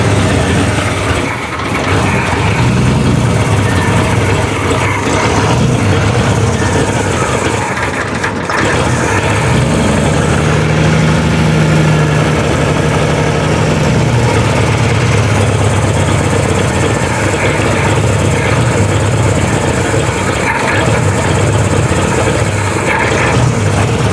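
An engine in a cheap custom car revving high and holding a loud sustained idle, a steady droning roar with slight wavering in pitch, close and unbroken for over twenty seconds.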